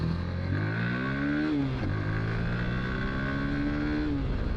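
A Suzuki V-Strom 160 dual-sport motorcycle engine revving hard while riding on a road, the pitch climbing through the gears with a brief dip at a shift, loud and steady under wind noise.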